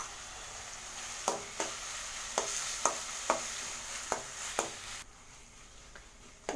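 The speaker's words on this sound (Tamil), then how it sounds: "தக்காளி நல்லா வதக்கி விடுங்க." Tomatoes with salt sizzle and fry in a pan for a Tamil kuruma, a steady close hiss broken by a series of sharp stirring clicks and scrapes, with no talking.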